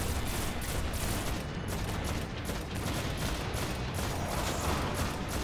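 Continuous video-game gunfire pours into a boss fight in a sci-fi shooter, a dense, unbroken fusillade of rapid shots at steady loudness with no voices.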